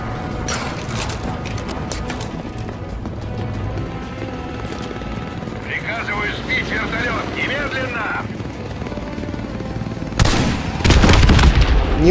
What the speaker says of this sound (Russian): Пускаю ракету